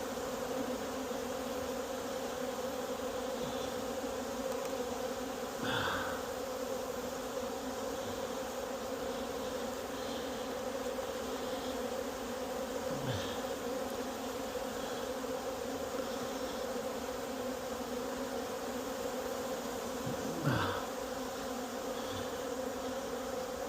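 Honey bees drone in an open hive box packed with honey stores during an apiary inspection. The buzzing is steady and close, with a few individual bees swelling louder as they pass near, and no talking.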